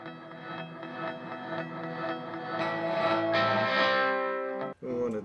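Distorted electric guitar chords ring out with a washy, reverberant tail, swelling over several seconds before a brief cut and a final strum.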